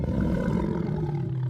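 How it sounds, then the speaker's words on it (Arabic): A lion gives a deep, rumbling roar, sustained and loud throughout, with no other sounds. "زئير. هذا أسد."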